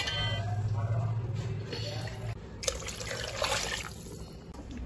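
Water pours into a rice pot for biryani, a close, trickling splash with gurgling bursts that rise midway, under low background hum.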